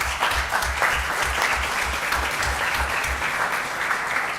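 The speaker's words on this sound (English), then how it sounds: "Let's give him a round of applause." An audience at a city council reorganization meeting in Paterson, New Jersey, applauds steadily, a dense, continuous wash of clapping heard at moderate distance with little talk over it.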